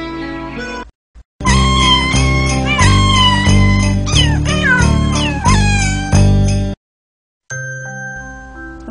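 A human voice imitating a little kitten singing, with a string of high, sliding meows held over a steady accompaniment, close and fairly loud, ending after a brief pause with a softer tinkling passage.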